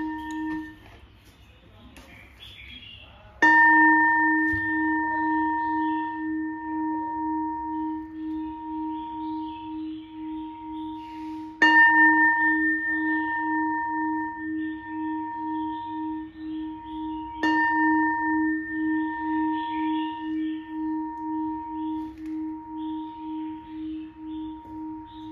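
Old Japanese bronze meditation bells, struck three times in slow succession, each strike ringing out with a clear, sustained tone that fades gradually with a gentle pulsing shimmer in a quiet room.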